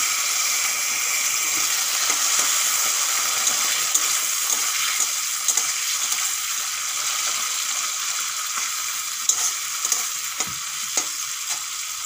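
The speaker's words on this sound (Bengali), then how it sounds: "চিংড়িগুলোও ভেজে নেব হলুদ লবণ মাখিয়ে।" Prawns coated in turmeric and salt fry in hot oil, giving a loud, continuous close sizzle with scattered crackles and light stirring clicks, and no talking.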